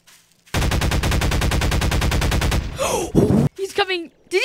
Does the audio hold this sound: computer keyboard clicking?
no